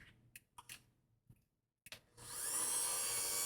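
A Vitamix immersion blender switches on after a few clicks and handling knocks, then runs with a steady, close, loud whirring hum.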